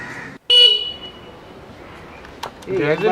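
A car horn gives a short, loud toot amid steady traffic noise, with a voice talking briefly just before and again after.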